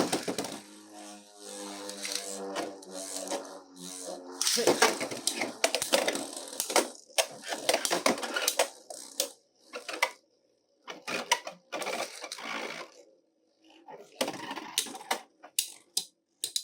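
A UX09 Samurai Saber spinning top with extra blades clashes in a stadium battle: dense bursts of rapid clicking, rattling and sharp plastic impacts, a fading whir early on, then choppy hits separated by short silences.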